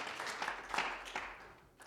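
Applause for an organizer at an evening jam session with a band, a brief wash of crowd clapping that swells and then fades, with no talk over it.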